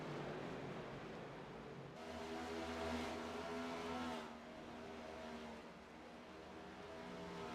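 Race car engine noise from a Lucas Oil championship round, a steady droning roar that swells and eases as the car keeps running after hitting the wall.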